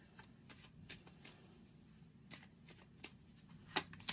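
Tarot cards are shuffled and drawn in a quiet room, with soft rapid riffling taps and a few sharper card snaps near the end, close and faint.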